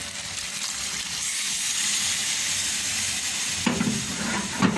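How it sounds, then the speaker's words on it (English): Steady rushing hiss of water pouring into a cooking pot of potato and chickpea curry, continuous and close, with a brief clatter near the end. "Now, we're just going to add some water, bring to boil."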